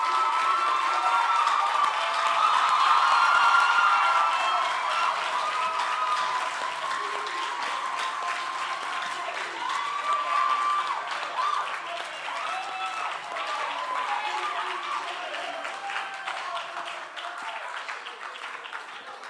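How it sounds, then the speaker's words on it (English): A large audience applauds steadily and loudly for nearly twenty seconds at the end of a banking and ethics competition's semi-finals, a dense continuous wash of clapping that swells early and then holds level. "Guys, let's clap for them."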